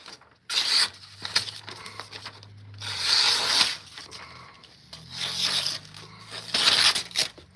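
A freshly sharpened knife slices through a sheet of paper in several separate rasping strokes, each a short dry tearing swish, close and clear with quiet pauses between.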